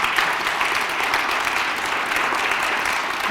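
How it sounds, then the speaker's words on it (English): Sustained audience applause at a lecture event, a steady dense wash of many hands clapping at even loudness throughout, with no clear voices over it. "Let's give them a big round of applause."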